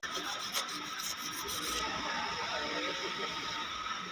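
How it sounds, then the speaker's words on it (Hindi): Sandpaper rubbed steadily over the rusty needle bar rod of a Siruba interlock sewing machine, producing a continuous close, harsh scraping hiss. The scraping is quicker and more rhythmic at first, then settles into a smoother, even rasp. "नीचे की तरफ हम थोड़ा ऐसे रेगमाल लगाएंगे ताकि इसका निकलना आसान हो जाए"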